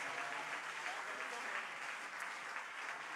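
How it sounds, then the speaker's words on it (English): A church congregation applauds after a performance, a steady dense wash of clapping filling the room at moderate volume with no pauses throughout. "Can we give them a hand of applause?"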